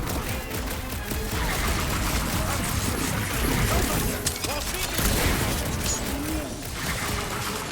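Rocket fires rapid gunfire in the Guardians of the Galaxy game: a dense, steady barrage of shots blended with busy combat effects and background score, loud throughout.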